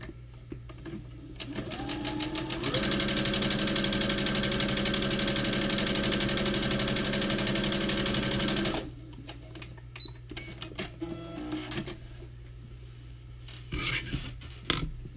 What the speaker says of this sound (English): I'm going to sew straight on that line